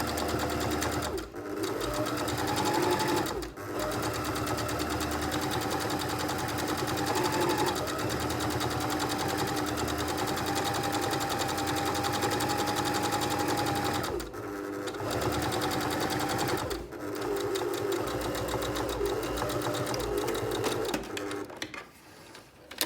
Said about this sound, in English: Now I'm going to sew my 2 outer bag sections together